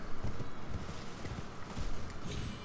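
Horse hoofbeats in the Elden Ring game, Shadow of the Erdtree DLC, as a rider gallops past: a quick, fairly faint clip-clop rhythm of repeated hoof strikes, with no talk.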